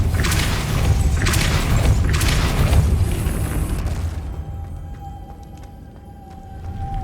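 The Depulso spell goes off in Hogwarts Legacy with a heavy booming blast and rushing whoosh, loud and dense for several seconds before fading into a quieter tonal hum.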